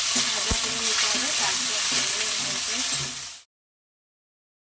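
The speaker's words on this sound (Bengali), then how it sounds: "কাঁচা দিইনি, তো এটাকে এখন একটুখানি ভাজা করে নিতে হবে।" Bitter gourd fries in a pan with a loud, close, steady sizzle and occasional stirring clatter, then stops abruptly into silence for the final second or so.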